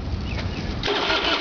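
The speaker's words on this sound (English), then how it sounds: "I'm going to start it up for you. It's got the factory Ironhorse 2-into-1 Kirker exhaust." An American Ironhorse Lone Star chopper with a factory 2-into-1 Kirker exhaust starts up, its V-twin catching with a sudden loud burst that rises to a steady rumble after a brief low cranking sound.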